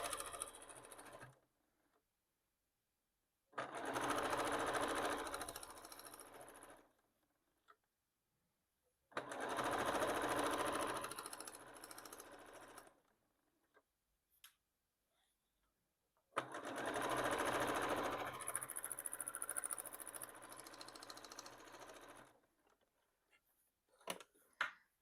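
A sewing machine quilts a Tula Pink pencil case, running in three long, steady bursts of close stitching separated by short quiet pauses.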